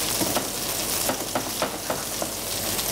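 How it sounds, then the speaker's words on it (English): Demerara sugar being stirred in a hot pan as it melts and starts to caramelise, giving a steady soft sizzle with light scraping strokes recurring every few tenths of a second, close and alone. "Stir that around just to get the sugar to start melting in the pan and start a little bit of caramelisation going on."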